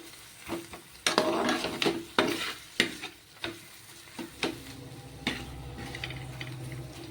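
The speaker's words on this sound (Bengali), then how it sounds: "একদম লো ফ্লেমে ভেজে নেব শস্য পোস্ত" Poppy seeds fry on a low flame in a pan, with a steady soft sizzle under repeated sharp scrapes and knocks of a spoon stirring against the metal, spaced roughly every half second to a second.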